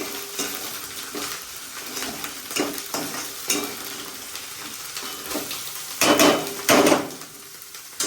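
Onions hit a pan where garlic has already been cooking, giving a steady sizzle with repeated scraping stir strokes and a couple of louder clattering bursts near the end, no talk.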